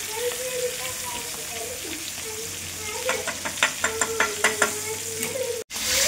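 Masala-coated bangda mackerel fries in hot oil, a close, steady sizzle with a run of rhythmic clinks and scrapes partway through and a brief cut near the end. Someone talks over it.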